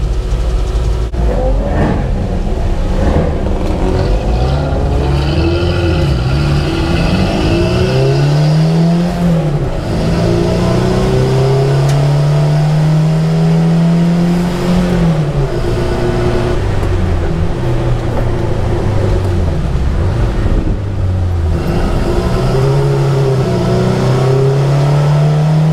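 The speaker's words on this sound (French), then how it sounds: "Ça y est, la 4L roule sur piste" A Renault 4 drives on the Magny-Cours circuit, its small engine droning loud and close inside the cabin, the pitch climbing and falling through gear changes as it accelerates along the track.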